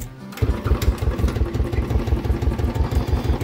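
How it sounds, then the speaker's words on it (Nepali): A motorcycle with a broken chassis and an engine fault starts after a brief quiet moment, then settles into a steady, loud, rhythmic idle that thumps evenly and nearby. "सो फर्स्ट चाहिँ म बाइक स्टार्ट गर्नेछु"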